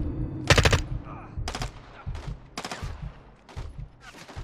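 Gunfire in Call of Duty: Modern Warfare 2 comes in several sharp automatic bursts spaced a second or so apart, loud and close, with quieter shots and battle noise between them.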